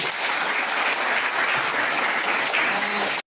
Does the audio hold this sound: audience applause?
yes